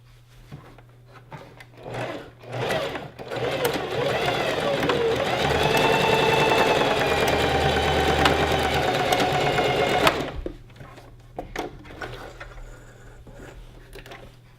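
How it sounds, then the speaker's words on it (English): Close sewing machine joining gathered skirt pieces, a steady whirring run of several seconds, with a person talking before and after. "And then we're going to sew these two together."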